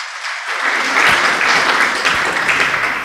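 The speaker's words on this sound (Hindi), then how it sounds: "आप लोग एक बार जोरदार तालियां बजाएं" Applause from a crowd at a youth conference swells up quickly and holds, dense and loud clapping through to the end.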